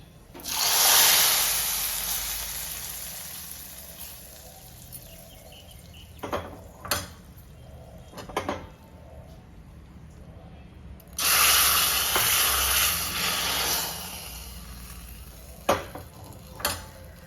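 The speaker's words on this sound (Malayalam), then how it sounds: "ഇനി ഇത് നമ്മുടെ കറിയിലേക്ക് ഒഴിച്ചു കൊടുക്കാം" A tempering of crushed chilli in hot oil is poured into a drumstick curry in a Kerala kitchen, sending up a loud hissing sizzle that fades. Spoon and pan clinks follow, then a second strong burst of sizzling.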